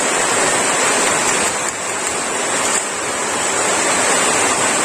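Heavy rain pours down outdoors in a dense, loud, unbroken hiss that stays steady from start to finish, with no voices over it.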